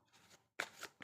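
An oracle card deck being shuffled: brief, close papery riffles and slides in two or three short bursts, quiet and without talking.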